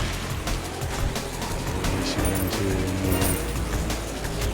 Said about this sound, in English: the actual car sound effects are actually better than a lot of proper racing games